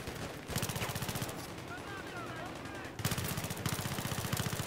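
MP7 submachine gun in Battlefield 3 firing rapid bursts, two long rattling strings of shots separated by a brief pause, loud and close.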